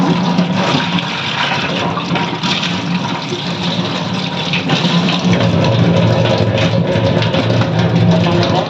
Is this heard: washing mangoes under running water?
yes